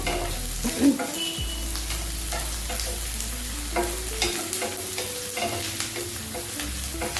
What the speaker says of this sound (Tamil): கொஞ்சமாக வதங்கட்டும்